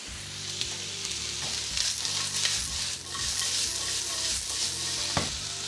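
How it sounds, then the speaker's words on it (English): Onions and spring onion whites hit hot oil in a pan for takeout-style fried noodles, a loud, steady sizzle with stirring and a low hum underneath. "Oil in, onions in. We'll put in our spring onion whites."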